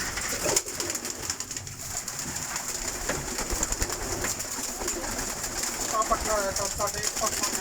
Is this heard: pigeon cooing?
yes